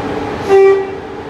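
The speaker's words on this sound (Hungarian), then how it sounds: "most kitolják szépen a vonatunkat" A brief tonal horn toot rises over steady rumble as a train with a sleeping car is pushed out of a station, heard fairly near with no talk.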